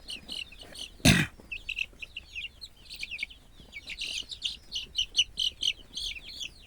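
A chicken held for fowl pox vaccination gives short, faint clucks and chirps in irregular bursts, with one louder sudden squawk near the start, close by in a quiet room.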